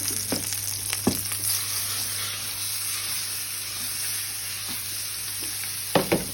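Venison steaks sizzle steadily in a hot pan, a constant hiss carrying through the whole stretch with a few sharp clinks and scrapes of utensils near the start and end.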